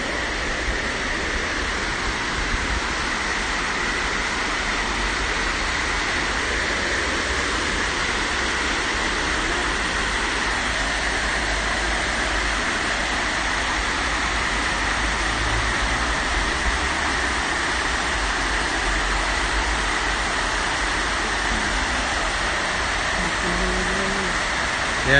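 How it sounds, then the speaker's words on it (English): A steady, broad rush of water pouring over a weir in Congleton Park, constant and unbroken throughout, with no voices. "It's not really a waterfall, this is called a weir."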